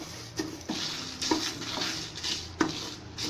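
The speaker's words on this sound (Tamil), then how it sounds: "ட்ரை ரோஸ்ட் பண்ணி எடுத்துக்கலாம்." Whole cloves, cardamom and cinnamon dry roast in a pan while a spoon stirs, giving a soft dry rustle broken by several sharp scrapes and taps against the metal, close and steady with no voices.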